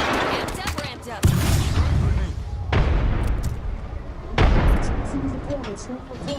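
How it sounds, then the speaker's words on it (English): Grenade blast in a video game amid continuous rapid gunfire and repeated booming impacts, loud and close, with players talking over the action. "Grenade, look out!"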